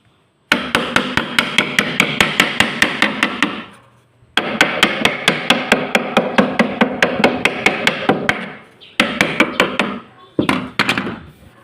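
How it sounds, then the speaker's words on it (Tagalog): A hammer drives nails into a small wooden cabinet in quick, loud, evenly spaced blows, delivered in several bursts with short pauses between them. "yan tapos patayin ng pamukpok"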